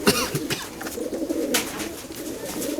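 Many pigeons of assorted breeds coo steadily in a breeding farm loft where clipped-wing birds are kept for eggs and chicks, a soft continuous murmur with a few louder calls near the start.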